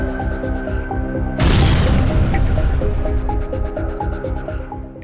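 A large explosion at an ammunition depot, with a sudden loud blast that rolls into a long rumbling decay over a steady background drone and repeated tonal beeps.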